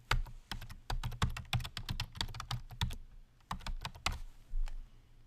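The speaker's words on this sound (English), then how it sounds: "and I'll type that in as well." Keys on a computer keyboard are struck as a password is typed, a close, soft patter of rapid clicks that runs for about five seconds with one brief pause, no voices.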